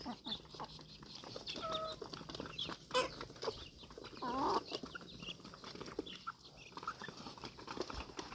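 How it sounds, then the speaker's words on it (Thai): Patterned chickens on a farm cluck and call in short, scattered bursts, fairly faint and close, with soft outdoor background noise between the calls. "ไก่ลายอยู่"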